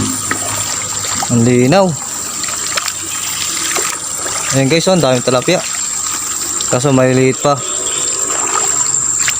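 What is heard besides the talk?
water flowing at a small waterfall with tilapia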